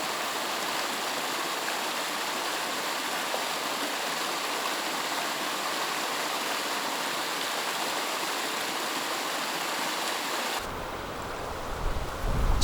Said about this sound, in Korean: 겨우내 얼었던 99골짜기마다 물줄기가 흘러내리고 그 물소리가 생명들을 깨우며